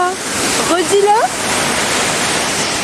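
A waterfall in Mexico roars as steady, broadband white noise close by, with voices briefly talking over the rush before it continues alone.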